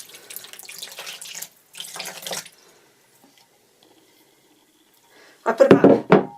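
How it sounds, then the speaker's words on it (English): Water from a litre container is poured into a bowl in two short splashing bursts, fairly quiet and close, followed by a pause and then a louder clatter near the end. "just start adding water"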